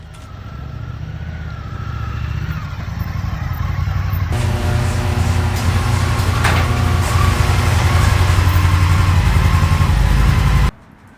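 A Triumph FTR 1200 S motorcycle engine idles and runs steadily, its loud continuous engine drone building slightly before cutting off abruptly near the end, with no talk.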